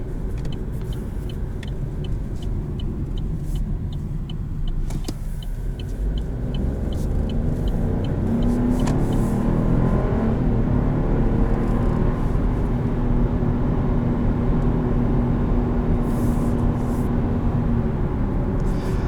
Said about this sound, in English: If you're wondering why it's holding revs, we are driving in sport mode.